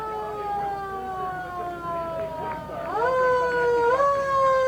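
An antique police car siren at an outdoor parade drones at a sustained pitch, then rises and swells louder, with a crowd murmuring faintly underneath.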